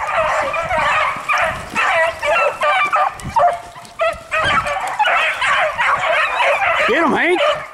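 Harehounds in a swamp hare hunt give repeated close barks, yips and whimpers in bursts, with a person talking nearby while walking alongside the pack.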